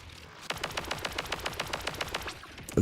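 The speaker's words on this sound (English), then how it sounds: "SMG mode." Rapid submachine-gun fire from the video game Borderlands 4: about twenty evenly spaced, sharp shots in one steady burst lasting over two seconds, close and loud, with no talk over it.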